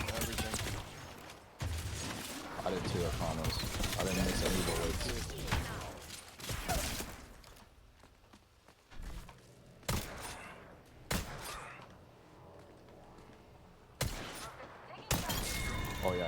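Gunfire and clattering action sounds from a first-person shooter video game, with dense bursts of shots in the first seconds and then sharp separate cracks, under ongoing talk from a player.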